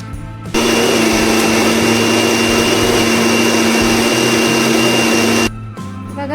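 A mixer grinder blending a cooled paste for paneer butter masala whirs loudly and continuously for about five seconds, starting and stopping abruptly.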